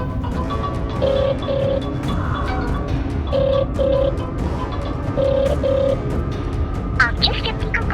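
A phone call rings out, its ringback tone sounding in three evenly spaced double bursts beneath background voices and other sound.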